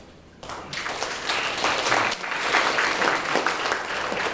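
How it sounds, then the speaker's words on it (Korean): A room full of people at a presentation event in Incheon, South Korea, bursts into applause, loud sustained clapping that builds and holds steady for several seconds. "여러 번 박수를 쳐주셔서 감사합니다"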